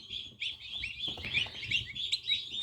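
Newly hatched Big-6 turkey poults in a brood cheep continuously with high, overlapping peeps, close and fairly steady, with no talk.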